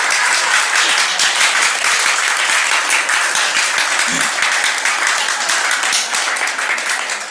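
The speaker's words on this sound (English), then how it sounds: "And give Brian a round of applause." A church congregation at a Sunday service breaks into loud, sustained applause, dense clapping that holds steady for several seconds before starting to fade.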